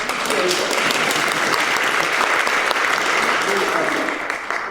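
A concert audience at a Mid-Columbia Mastersingers choral Requiem performance applauds, with dense, steady clapping from a full hall that holds at an even level throughout.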